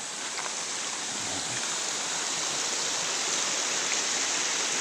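A river flows steadily nearby in a rural province setting, a continuous broad rushing wash of water with no speech, even and unbroken throughout.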